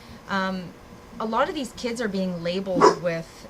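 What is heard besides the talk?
dog barking at the garbage man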